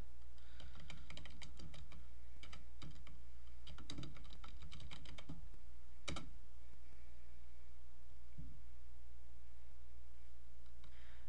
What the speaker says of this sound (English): Type in something in Google.